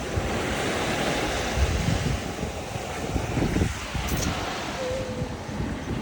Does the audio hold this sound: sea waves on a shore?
yes